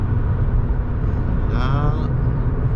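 A car pulls out of a roundabout, its engine giving a steady close low rumble from inside the cabin, with a brief rising whine in the middle as it accelerates.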